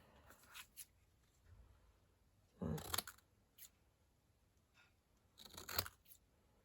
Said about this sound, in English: use my long scissors